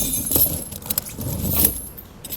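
Metal Titan snow tire chains with cams rattle and jangle as they are draped over a 2020 Ford Ranger tire, a close, bright clinking burst with a few separate chain clatters.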